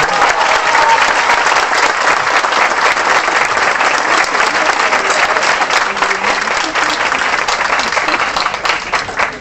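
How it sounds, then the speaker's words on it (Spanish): Large audience at a university event at UAM Xochimilco applauds loudly and continuously, a thick, sustained roar of many hands clapping with crowd noise underneath, lasting several seconds. "Un aplauso."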